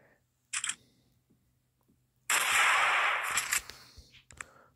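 A sniper rifle firing in a hunting video game: a short sharp crack, then a louder, longer blast that rings out and fades, with small clicks before and after and no speech.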